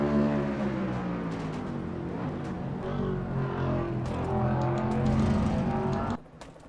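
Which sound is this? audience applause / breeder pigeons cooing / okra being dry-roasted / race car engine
race car engine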